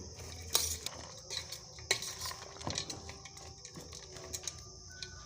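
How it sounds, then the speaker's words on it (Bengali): Jhal muri ingredients, including chanachur, raw chickpeas, lemon juice and mango oil, are mixed in a bowl, giving close, faint clinks and scrapes of a spoon in irregular bursts with no talking. "এবারে সমস্ত উপকরণগুলোকে মাখিয়ে নিচ্ছি"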